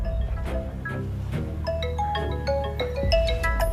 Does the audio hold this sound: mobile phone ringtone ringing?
yes